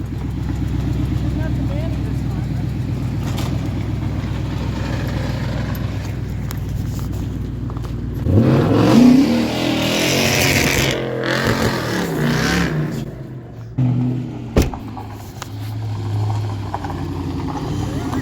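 A Toyota 4.7 V8 with a full 3-inch straight-pipe exhaust idles with a deep rumble, then revs in a loud, rough burst before settling again. People talk over the engine.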